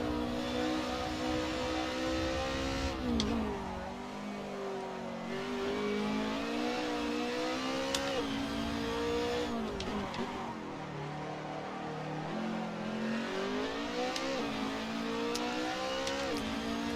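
A touring race car engine in Assetto Corsa, at the Croft circuit, revs continuously for a full lap segment, pitch rising and dropping with gear changes through the corners, loud and close with no talk.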